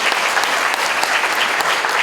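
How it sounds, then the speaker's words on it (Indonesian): Audience at a national public relations convention in Bandung gives sustained, loud, dense applause, a continuous wash of many hands clapping without a break. "So, sekali lagi mohon tepuk tangan untuk Kang Emil."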